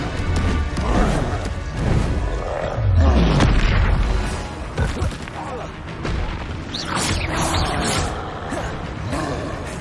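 Bombarda blasting spell explosions in Hogwarts Legacy, booming blasts with crashing debris and rumble, loud and repeated, with game combat sounds and a voice calling out over them.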